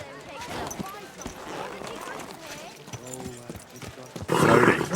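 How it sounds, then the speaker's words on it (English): A horse's hooves clip-clop along a market street in the video game Kingdom Come: Deliverance II, rhythmic hoofbeats passing under people talking nearby, with a louder burst of noise near the end. "You want that horse to trample me?"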